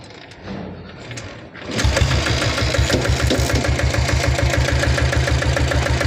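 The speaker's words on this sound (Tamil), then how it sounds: "இப்போ வண்டியை நான் ஸ்டார்ட் பண்ணி காட்டுறேன், பீட் சவுண்ட்லாம் கேளுங்க" An old Royal Enfield Bullet motorcycle engine rattles briefly, then catches and settles into a steady, rapid thumping idle close by.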